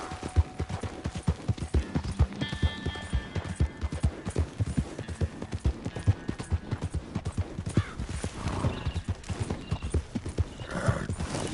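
A horse in the video game Red Dead Redemption 2 trots with rapid, regular clip-clopping hooves close by, broken by a brief whinny, with no voices.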